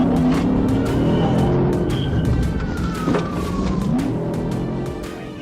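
A fleeing car revs and accelerates hard during a high-speed police chase, its engine roar loud and steady with a siren wailing in the background.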